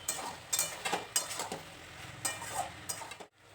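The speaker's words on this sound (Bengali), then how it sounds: "সবজিগুলোকে যতটা পারবেন ভালো করে নাড়াচাড়া করবেন।" Mixed vegetables stirred in a frying pan for a vegetarian Bengali curry, with a utensil scraping and clattering in uneven strokes over a steady sizzle, close and clear, with no talk.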